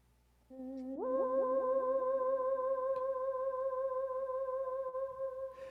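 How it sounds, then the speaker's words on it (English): A theremin plays a single sustained gliding tone that slides upward about a second in, then holds with wavering vibrato, loud and alone for several seconds. "Theremin. And it sounds like this."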